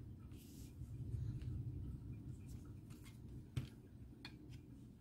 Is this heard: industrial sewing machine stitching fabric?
no